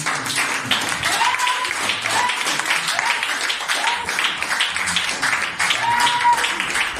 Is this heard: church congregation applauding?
yes